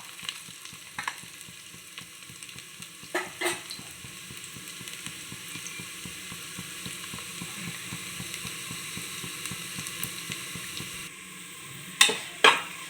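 Ground masala paste sizzles steadily in a pan as it fries toward golden, a soft, constant frying hiss with a few stirring knocks and a couple of sharper clinks near the end.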